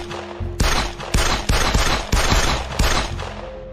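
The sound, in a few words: gunfire from a Makarov pistol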